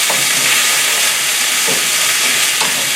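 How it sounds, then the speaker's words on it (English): Vegetables stir-fry over high heat in homemade hot chili oil, a loud close continuous hiss and sizzle with soft scraping pulses from stirring. "Give them a quick stir."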